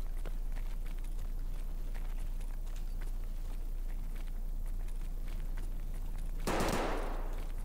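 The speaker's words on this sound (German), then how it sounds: "Die Schüsse werden immer lauter." Gunfire echoes on the Interchange map in Escape From Tarkov, with scattered muffled shots in the distance followed by one sudden loud burst near the end.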